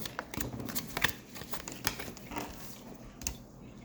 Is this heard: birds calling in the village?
no